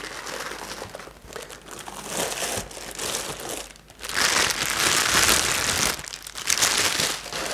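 Close, loud crinkling and crumpling of packaging as a collectible Dragon Ball Z figure is unboxed, continuous and getting busier in the second half, with no voices.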